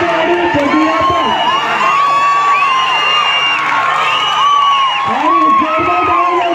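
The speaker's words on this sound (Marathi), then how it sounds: "आणि जोरदार टाळ्या वाजवते या टॅकलसाठी" A spectator crowd at a village kabaddi match in Terye Burumbi roars in sustained cheering with whoops and shouts after a tackle, loud and continuous throughout, with voices mixed into the din.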